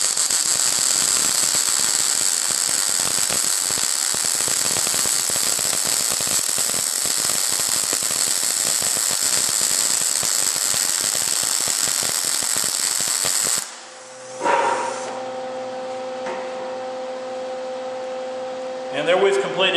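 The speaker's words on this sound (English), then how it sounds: "And there we've completed another weld." A MIG welder lays a plug weld on a trailer hitch coupler, giving a steady loud crackling buzz for about fourteen seconds before the arc stops, then a quieter hum with faint clicks follows.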